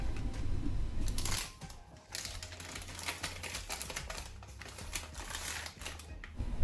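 A tuna sub sandwich is wrapped for a school lunch, with close crinkling and rustling of the wrapping, short taps and handling sounds, no talking.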